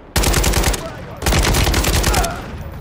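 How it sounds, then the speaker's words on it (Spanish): In the Call of Duty video game, two long bursts of rapid automatic gunfire rattle out close and loud, separated by a brief pause, with the second burst fading slightly at its end. "Buenos disparos, Bravo."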